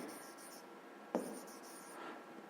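Pen on paper while a seventh-grade physics problem is worked out: a faint scratch of writing with one sharper tap, quiet and close over a low background hiss.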